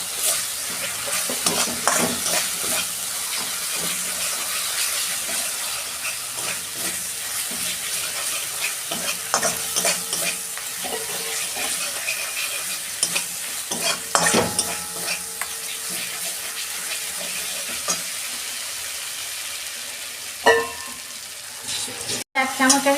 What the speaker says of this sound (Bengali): ধনে দিচ্ছি, 2 মিনিট ভালো করে কষতে নেবো